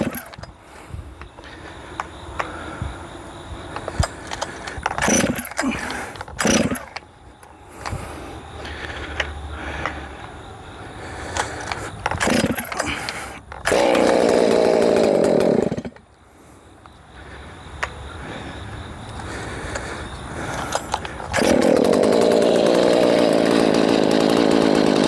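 A ported Holzfforma G395 or G660 chainsaw, or a Husqvarna 395XP or Stihl MS660 or 066, is started with several sharp pull-cord yanks and sputters. It then roars close and loud in two sustained revving bursts.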